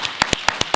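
Audience claps at a county education budget forum, a handful of distinct, evenly spaced sharp claps standing out clearly over a quiet room.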